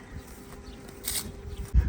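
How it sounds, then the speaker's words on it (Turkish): A swarm of honeybees buzzes close by, a dense, wavering drone that swells and fades as individual bees pass near, with a brief thump at the end. "Nisan-Mayıs aylarında bol miktarda arılar oğula gider"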